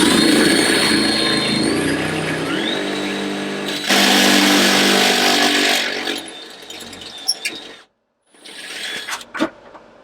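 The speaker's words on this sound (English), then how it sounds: "I got my drill, and I got this brand new step up bit." A power drill with a step drill bit whines steadily at high speed, then cuts off and restarts briefly after a short pause; no talking.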